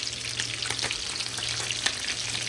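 Eggs sizzle and fry steadily in a pan for a breakfast, a dense crackling hiss that stays loud and continuous with small pops throughout, no voices over it.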